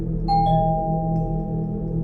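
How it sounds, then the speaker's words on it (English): A doorbell rings once with a two-tone chime that lingers and fades, fairly loud over a steady low hum. "just as we decided to switch to a movie, the doorbell rang"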